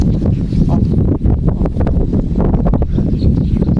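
Steady blustery wind under overcast skies buffeting the microphone at a fishing spot, a loud continuous low rumble with gusty fluctuations and no voices.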